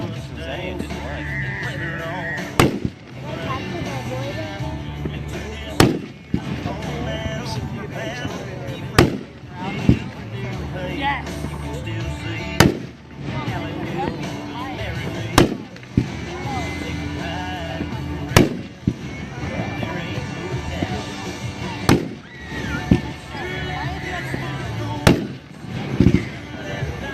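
A Dominator 500-gram Detonator consumer fireworks cake fires a long, steady string of shots, with sharp, loud bangs cracking out about every three seconds over a continuous crackle and rumble.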